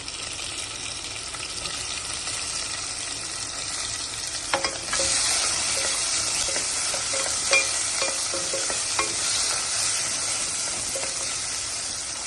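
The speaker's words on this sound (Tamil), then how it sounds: "பூண்டு இது ஒரு 5 செகண்ட்ஸ் வதங்கட்டும்" Garlic and tomato sauté in a pan with a constant sizzle, joined midway by louder frying and clicks of stirring against the pan.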